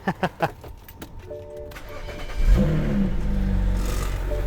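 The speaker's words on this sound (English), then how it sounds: "Let's go ahead and hear a semi-cold start." A BMW 335i engine with a stockless exhaust cranks with a few quick starter bursts on a semi-cold start, catches, and settles into a loud, rumbling idle.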